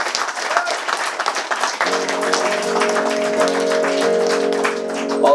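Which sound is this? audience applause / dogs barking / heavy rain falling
audience applause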